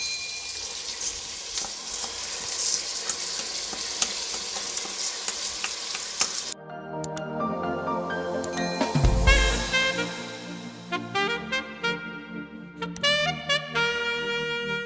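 Rice frying and sizzling in butter in a pan, a steady crackle for the first half, then clinks, stirring and scraping of utensils with brief metallic rings; no voices.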